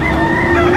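An eight-month-old pumpkin street comb gamefowl rooster at a roadside fowl sale in Lipa, Batangas, letting out a loud, close, sustained crow.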